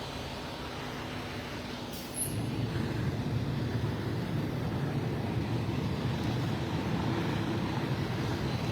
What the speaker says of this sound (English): we got a helicopter flying over